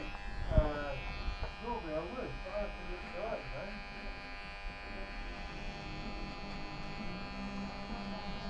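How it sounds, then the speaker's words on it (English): An electric hair detailer trimmer buzzes steadily while a haircut line is sharpened, its hum running throughout under a voice. "Go over with the detailers."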